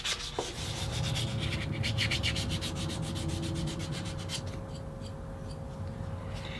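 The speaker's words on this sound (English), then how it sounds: "then it's time to grab some sandpaper and just get everything cleaned up" Sandpaper rubs steadily back and forth over a wooden hand plane tote during restoration, a close, continuous scratchy stroking with a quick rhythmic stretch of short strokes, then slower rubbing.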